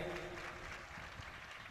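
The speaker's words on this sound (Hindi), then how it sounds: "एक बार जोर से इन सभी के लिए ताली बजाएंगे।" A crowd claps for honoured guests at a Bhagavat katha gathering in Garhmukteshwar. The steady applause is faint and distant, with a low hum running underneath.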